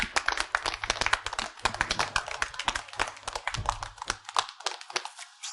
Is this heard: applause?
yes